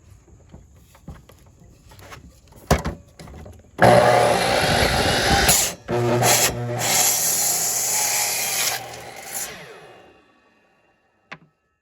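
Circular saw cutting wood boards for a workbench: a few sharp knocks, then a loud, close whining cut lasting several seconds with a brief dip midway, ending in a fading spin-down and a final click.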